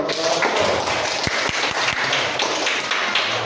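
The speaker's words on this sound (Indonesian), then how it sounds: "Tepuk tangan dulu." A small classroom group claps briefly for a short stretch. Several sharp, distinct hand claps stand out near the middle, and low murmuring runs beneath them.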